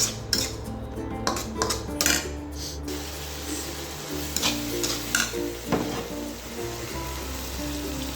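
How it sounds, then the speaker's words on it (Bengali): A spoon scrapes and clinks against a pan while spices sizzle gently underneath with a little water for hilsa fish curry, with a steady low hum in the background. "সামান্য অল্প পরিমাণে পানি দিয়ে আমি এটাকে কষিয়ে নিচ্ছি"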